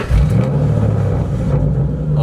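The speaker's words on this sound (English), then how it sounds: "it cannot be a Jero Cars video without the straight pipe 3-valve startup" A Ford Mustang GT 4.6L three-valve V8 with straight-pipe exhaust rumbles loudly and close, a deep steady idle with slight revving after startup.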